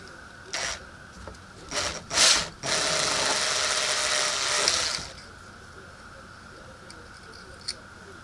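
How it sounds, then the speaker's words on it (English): A power drill spins a hornet fishing lure on wire, a few short whirring bursts and then a sustained buzzing spin of several seconds before stopping, with faint background noise. "Then go ahead and stick it in the end of your drill."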